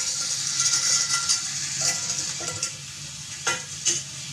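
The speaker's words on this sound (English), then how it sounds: "Give it a stir." Rice being stirred as it fries in a pan, a steady close sizzle with occasional scraping clinks of the utensil against the pan.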